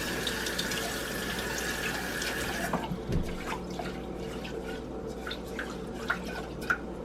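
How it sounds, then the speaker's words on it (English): Rice being washed under running water from a faucet before cooking nikujaga: a steady stream runs for a few seconds, then gives way to splashing, dripping and swishing water close by. "First I need to wash my rice."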